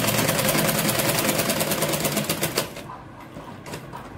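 A sewing machine stitches a sleeveless kurti, its needle clattering in a fast, even rhythm, then slowing and stopping, with a few softer taps after.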